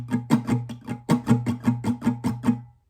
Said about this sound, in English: But with the bolds, it sounds like this.